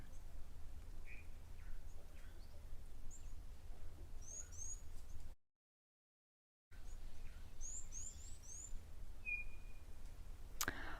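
Birds call at the Victoria Falls Safari Lodge waterhole in Zimbabwe, with scattered chirps and short whistles, a couple of brighter calls near and others faint, over a steady low outdoor hum. There is a brief gap in the sound.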